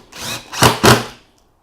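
Power drill driving screws into a wooden stair support block, three short whirring bursts in quick succession, close and fairly loud, ending in silence.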